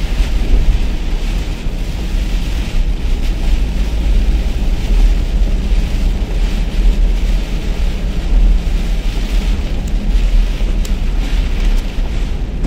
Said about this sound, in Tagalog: Lakas ng ulan at hangin.